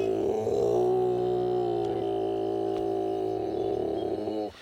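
A male koala's long, deep, rumbling growl with a throaty, droning tone, loud and close, sustained for several seconds before cutting off abruptly.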